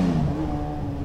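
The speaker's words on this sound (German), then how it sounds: "Zum Beispiel dieses abfahrende Motorrad hier." A motorcycle engine revs and pulls away, a loud steady drone with a slight pitch shift across one second, heard alone.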